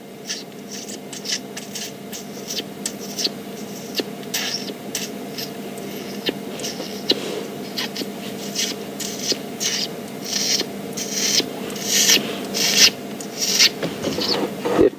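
A person imitating a generic mongoose alarm call on a safari drive, making a run of rapid raspy clicking and chattering with the tongue, close and growing louder and more insistent over a steady low vehicle hum.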